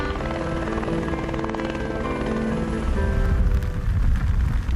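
A rescue helicopter flies over the mountains of Picos de Europa in León, its rotor chopping and turbine whine continuous and loud, swelling slightly as it nears.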